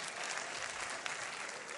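Dense, even applause from a comedy show audience, many hands clapping together at moderate volume without a break.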